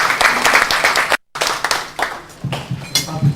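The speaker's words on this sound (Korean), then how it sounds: "박수로 다시 한번 부탁드립니다." A seated audience claps at a lecture on the Korea–Japan undersea tunnel, close and lively individual claps forming a brief round of applause, cut by a short silent gap and tapering toward the end.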